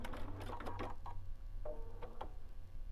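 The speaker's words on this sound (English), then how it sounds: "Sew something out on a piece of test cloth" A sewing machine stitches a test line on a piece of cloth, giving a close steady mechanical whir under rapid ticking needle strokes, with a few short pauses in the run.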